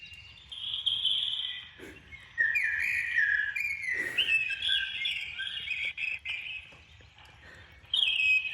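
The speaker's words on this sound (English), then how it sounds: "listen in on the CCTV from the land, listen to how loud the birds are there." Loud, dense birdsong picked up by a CCTV microphone on farmland, with overlapping chirps and whistled calls, continuous throughout, over a low steady background hum.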